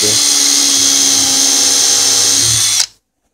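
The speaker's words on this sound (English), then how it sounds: "I'm going to drill a hole about 2 by 2 in." A power drill bores a hole for mounting a drawer with tandem clips, emitting a steady high-pitched whine for about three seconds before stopping abruptly, loud and close.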